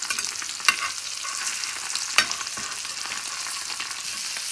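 Eggs frying on a flat tawa over a low flame, a soft steady sizzle with two sharp scraping clicks of a spatula as they are flipped.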